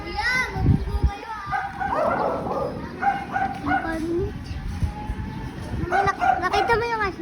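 A dog barks and yips in short bursts near children's voices, with kids chattering and playing around it throughout, the yelps rising over a busy outdoor background.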